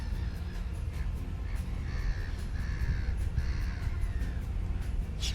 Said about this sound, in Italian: tutti i gabbiani.